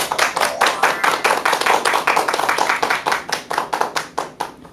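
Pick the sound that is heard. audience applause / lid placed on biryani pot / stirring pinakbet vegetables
audience applause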